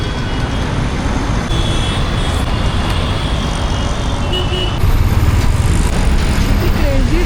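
Busy road traffic on the way to Ghrishneshwar rumbles steadily, a dense wash of trucks, cars and buses at close range, growing slightly louder near the end.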